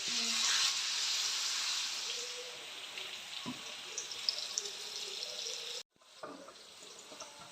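Fish frying in a pan gives a steady, broad hiss and crackle of hot oil that holds close and fairly even, with a few louder pops, then breaks off briefly near the end before resuming more quietly.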